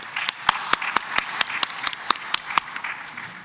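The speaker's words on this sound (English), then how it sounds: "A round of applause, please." Audience applause at a conference panel on borderland security in Africa: a moderate crowd claps steadily for a few seconds, with individual sharp hand claps standing out clearly above the wash of clapping.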